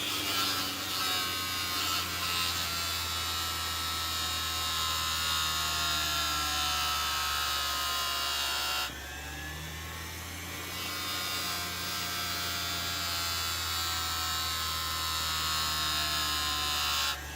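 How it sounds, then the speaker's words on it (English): A Harbor Freight 3-inch electric grinder runs while cleaning a wheel, producing a loud, continuous high-pitched whine for about seventeen seconds that dips briefly midway when it contacts the work. "I'm going to take the Harbor Freight 3-inch grinder."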